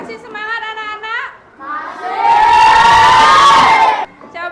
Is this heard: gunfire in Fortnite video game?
no